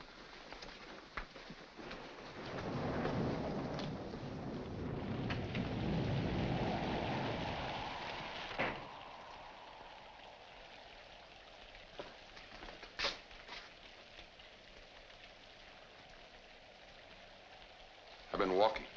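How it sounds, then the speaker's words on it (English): Rain falls during a thunderstorm at night outdoors, a steady hiss swelling with a long rolling rumble of thunder early on, then fading to softer rainfall with a few sharp cracks and faint voices. "In this rain? Yes, in this rain."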